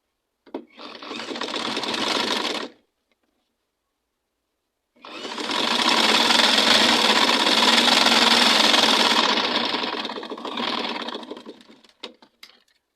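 A sewing machine stitches satin fabric for a turban cap, running in two steady buzzing bursts, a short one then a longer sustained run, loud and close with a brief pause between and a few clicks at the end.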